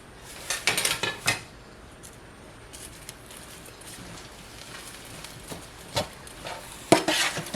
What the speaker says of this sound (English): We're gonna stir it.